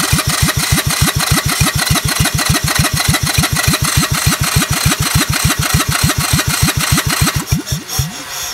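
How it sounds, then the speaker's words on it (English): Onan Lister Petter MEP-802A military diesel generator engine cranking over with the injectors off, a loud, close, rapid rhythmic chugging that holds steady for about seven seconds and then winds down to a stop. "When I crank it over, you'll see I got good squirts from the pump."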